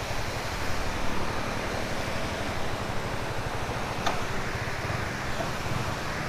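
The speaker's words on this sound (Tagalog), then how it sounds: "So ito yung dagat." Sea waves roll beside a waterfall on a rainy day, heard as a steady broadband roar mixed with gusting wind noise on the microphone. The sound stays constant and fairly loud throughout without a clear break.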